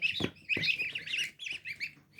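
High, thin peeping calls from newly hatched goose goslings, several quick chirps in a row, close and fairly soft.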